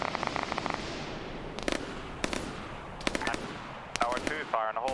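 Explosive HE shell impacts and bursts of gunfire in an Arma 3 combat game, sharp cracks and volleys repeating across a rumbling battlefield, with faint radio-like voices near the end.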